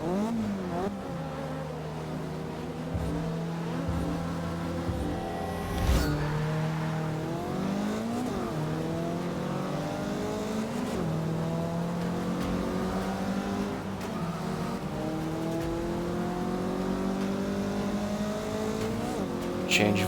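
A Mazda race car in the Forza 6 racing game revs and shifts continuously, engine pitch climbing and dropping through gear changes with a brief skid or bump midway, loud and close throughout.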